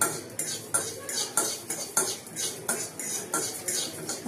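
Coriander seeds with small cinnamon sticks roast in a pan for pickle spices, stirred with a utensil that scrapes and clinks in a regular rhythm of repeated strokes, close and moderately loud.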